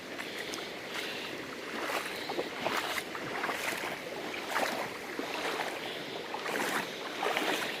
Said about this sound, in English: Here's your second water crossing.